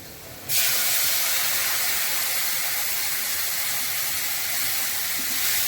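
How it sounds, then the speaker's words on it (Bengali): A paste of cumin, dried chili and turmeric hits a hot pan with a sudden loud sizzle that settles into a steady, close hiss of frying, continuing unbroken with no talking. "আমি জিরে শুকনো লঙ্কা আর হলুদ একসঙ্গে গুলে নিয়েছি ওটা দিয়ে দিচ্ছি"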